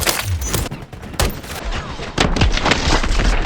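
Loud, booming shots and crackling gunfire in a Modern Warfare III match on Das House, with a lever-action sniper rifle among the weapons. Several heavy reports arrive close together amid ongoing battle noise.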